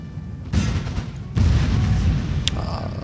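Mortar and artillery fire in a Napoleon Total War online battle, France against Prussia: two heavy booming blasts with rumbling, noisy tails over a low background, then a brief sharp crack near the end.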